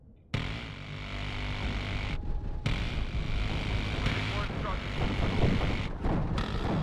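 An Mi-24 helicopter is shot down in the WARNO video game, with a loud continuous rotor and engine roar, explosive bursts and rumbling throughout and brief dropouts. It sounds under faint voices.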